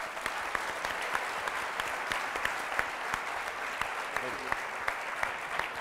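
At a quiz show final, the studio audience claps steadily and moderately, with sharp individual claps standing out over several seconds and a little voice murmur beneath.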